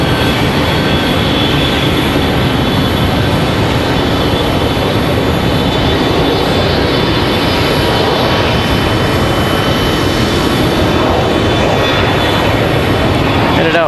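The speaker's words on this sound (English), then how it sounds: "American Airlines 2601, that 737-800 taking off there" An American Airlines Boeing 737-800 jet takes off at Raleigh-Durham International Airport with a loud, steady, broadband roar that fills the whole stretch, with no talking.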